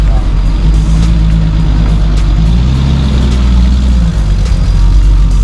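A Ford Mach 1 Mustang pulls into a car meet, its engine rumbling steadily nearby with a low, rising drone against crowd noise and background chatter.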